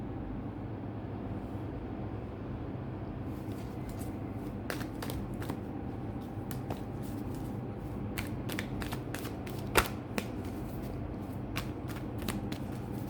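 Tarot cards are shuffled during a reading, giving rapid papery riffling clicks in bursts over a steady low background hum, with no talking.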